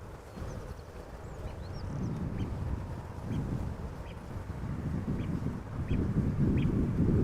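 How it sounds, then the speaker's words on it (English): Faint, brief bird calls come through intermittently outdoors at Amsterdam Schiphol Airport, set against a steady low wind-like rumble, with no talking. "I do hear another bird making some sound."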